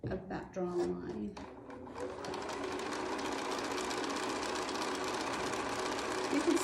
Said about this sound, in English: on my sewing machine, I'm going to sew 1/4 of an inch on either side of that drawn line